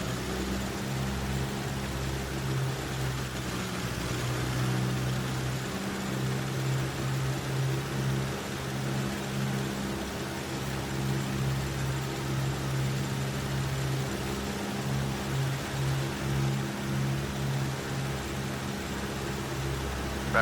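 Cessna 172 piston engine held at 1800 RPM for a run-up check in a flight simulator, a steady droning hum with low harmonic bands, continuous and even throughout, with no talk over it.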